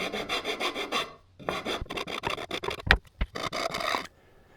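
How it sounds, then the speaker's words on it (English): A file rasps out a notch cut in wood, with rhythmic close scraping strokes in two bursts separated by a short pause and a few sharp knocks, no voices. "then file it out"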